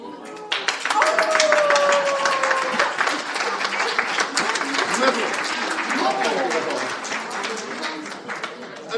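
A revue theatre audience claps loudly during a painting unveiling on stage, with vigorous, sustained applause and bright individual claps. Brief tonal sounds and some voices mingle with the clapping.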